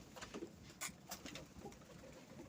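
Pigeons at a winter feeding coo softly nearby in a few short, separate bursts, with faint pecking and rustling between the calls.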